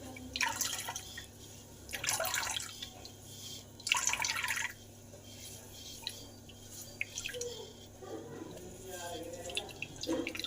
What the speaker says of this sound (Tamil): துணி எந்தளவு முருகிங்களோ தண்ணி க்ளீனாக வந்து தேங்காய் பால் க்ளீனாக வடிஞ்சிடும்.